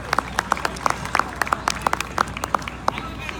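Audience applause at an India Day Festival speech given by a borough mayor, heard as scattered, uneven claps that build into steady clapping from a moderate crowd, close and fairly loud throughout.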